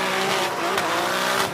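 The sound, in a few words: drift car engine with anti-lag system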